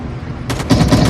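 Gunfire in the Call of Duty Mobile video game: after a brief low rumble, a loud, rapid burst of automatic shots rattles out and continues to the end, with no speech.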